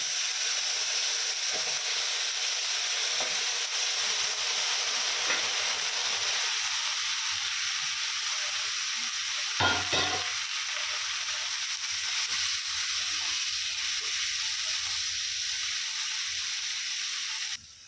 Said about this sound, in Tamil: இப்போ அந்த மசாலாலே கத்திரிக்காய் கொஞ்சம் நேரம் வதக்கணும்.